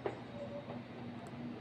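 A metro train at Belapur metro station in Navi Mumbai gives a faint, steady rumble with a low hum, heard from a distance inside the station.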